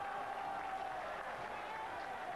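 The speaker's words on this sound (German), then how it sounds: "Grenzenloser Jubel bei den Gütersloern" Football crowd at a 1995-96 Regionalliga match between FC Gütersloh and Homburg cheers after a penalty goal, a distant roaring wash of cheering and clapping with a commentator's voice over it.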